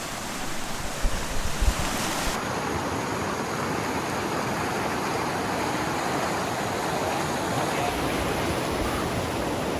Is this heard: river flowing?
yes